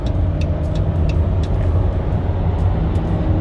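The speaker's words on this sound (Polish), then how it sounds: "Przeciśniemy trochę auto, zobaczymy, jak skrzynia sobie radzi." Chrysler Town & Country minivan with a 3.6 V6 accelerating hard onto a bypass, heard from inside the cabin as a loud, steady engine drone and road roar with no talking.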